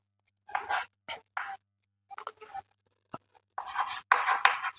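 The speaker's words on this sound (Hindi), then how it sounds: "जैसे मैं एक एग्जांपल लिखता हूं" Marker or chalk writing an example on a board in a classroom grammar lesson, heard as short scratchy strokes in separate bursts with pauses between, close and fairly clear, without any talking.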